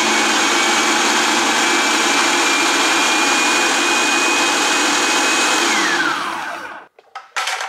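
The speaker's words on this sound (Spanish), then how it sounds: "Lo vamos a echar aquí en el extractor. Para estarlo moliendo un poquitito." A food processor grinding washed loroco flower buds for Salvadoran pupusas, a loud steady motor whine for several seconds that then winds down and stops, followed by a few brief knocks and rattles.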